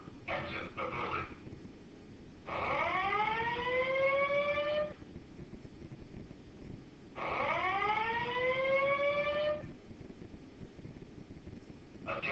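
A building fire alarm siren sounds in two long rising, whooping sweeps separated by short pauses. The tone is loud and piercing, with brief bursts of sound between the sweeps.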